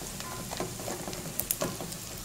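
Chopped carrot fries in a pan with ginger and garlic for vegetable fried rice: a steady, close sizzle with soft crackles and a few sharper pops, and no talking.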